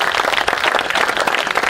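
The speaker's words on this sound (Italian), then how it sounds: "un bell'applauso" An audience at a theatre performance of an amateur Sicilian company in Trapani applauds, a dense steady wash of many hands clapping close and loud throughout.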